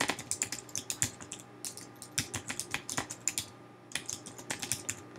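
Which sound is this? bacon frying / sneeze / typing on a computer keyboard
typing on a computer keyboard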